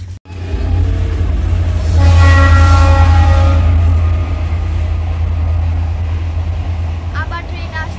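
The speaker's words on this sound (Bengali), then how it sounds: "আবার ট্রেন আসছে" A train rumbles past nearby as a loud, sustained low roar with a rising and fading tonal whine, with people talking over it.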